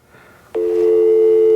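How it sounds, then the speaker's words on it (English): Telephone dial tone: after a brief faint hiss, a steady loud electronic tone switches on abruptly and holds unbroken to the end, with no voices. "And this is what a dial tone sounds like."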